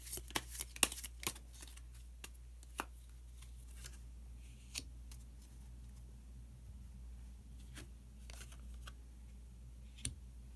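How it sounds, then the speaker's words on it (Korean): Tarot cards shuffled and a card drawn: a cluster of sharp, close card slaps and flicks at the start, then scattered soft taps over a quiet background. "카드 한 장을 더 뽑고 이야기 계속 나누도록 하겠습니다."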